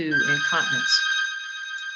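A telephone rings with a bright, sustained electronic tone that starts under a man's speech and then continues alone after he stops.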